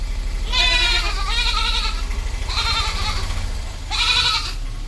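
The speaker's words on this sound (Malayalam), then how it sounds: "നല്ലൊരു അടിപൊളി മലബാറി ആട്." A Malabari goat, a young female crossed with a Beetal, bleats loudly and close in three drawn-out, wavering calls separated by short pauses.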